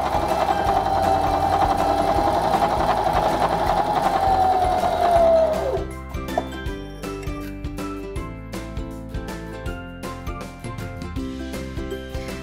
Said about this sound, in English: push the hand wheel in and you'll be able to sew a seam every time